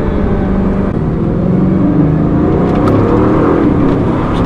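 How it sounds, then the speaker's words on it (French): A Bugatti Chiron with its 1,500-horsepower engine pulls loudly from inside the car, a dense, rising turbocharged roar that fills the cabin throughout. "voilà, c'est le bruit du turbo."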